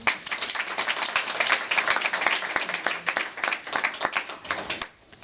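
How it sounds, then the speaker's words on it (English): A club audience at an evening talk bursts into sustained applause, a dense wash of many hands clapping for about five seconds before fading out near the end. "Can we give him a round of applause, please?"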